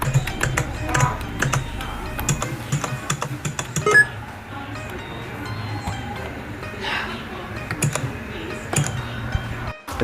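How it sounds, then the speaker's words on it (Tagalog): A T-Wolf T20 RGB backlit gaming keyboard is typed on steadily up close, with quick irregular key clicks and taps over a low background hum, slightly busier at first and then sparser. "Mas masarap pindutin yung kanyang keys."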